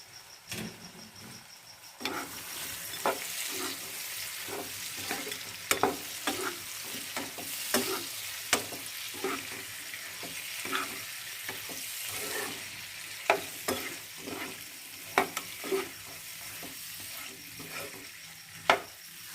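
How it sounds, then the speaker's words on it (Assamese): Chicken pieces frying in oily masala on low-medium heat for a peanut chicken curry, a soft continuous sizzle broken by repeated sharp clicks and scrapes of a stirring spoon against the pan, no talking. "মাংসখিনিৰ পৰা তেল এৰিবলৈ আৰম্ভ কৰিছে"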